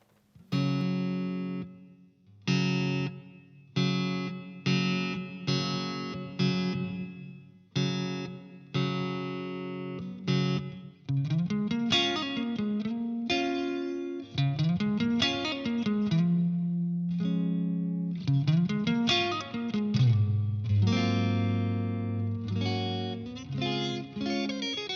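Electric guitar through a Blackstar HT-20R MKII amp with its reverb on: chords and picked phrases, then sustained bending notes, all washed in reverb. Played alone, close and steady in level.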